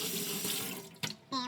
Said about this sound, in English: Rinse that off real quick.